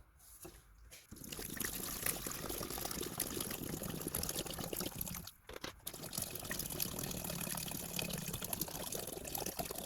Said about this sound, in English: we'll fill up our other containers